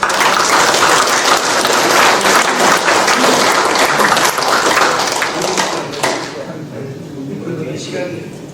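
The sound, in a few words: audience applause for the wives at a reunion ceremony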